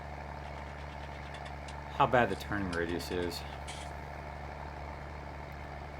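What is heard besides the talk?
Fiat tractor engine idling in a video game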